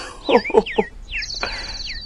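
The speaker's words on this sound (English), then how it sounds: "Ben, the birds are back!" Birds give a burst of bright chirps and tweets, several quick calls close by, with a brief whistled trill at the end over faint background noise.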